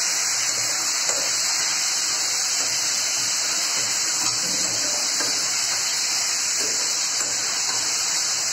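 Water pours in a steady, loud continuous stream while mutton curry is cooked on a gas stove, with hot water being added to the pot; no talking.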